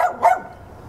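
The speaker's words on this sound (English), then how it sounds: "He always barks in like a rhythm." A neighbour's dog lets out two sharp, close barks in quick succession, the second louder, followed by a brief fading tail.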